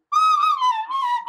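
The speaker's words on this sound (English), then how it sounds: "it's a recorder" A recorder sounds one sustained, slightly wavering note for about a second, clear and close with nothing else around it; the notes of the Hot Cross Buns tune cannot be picked out.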